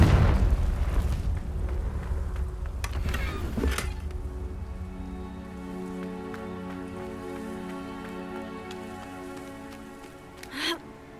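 Confringo fire spell exploding in the video game Hogwarts Legacy: a couple of loud, sharp blasts early on, then a steady tonal ambient backdrop with a final brief burst near the end.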